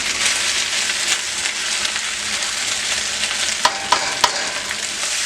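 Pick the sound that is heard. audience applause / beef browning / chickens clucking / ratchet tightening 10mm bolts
beef browning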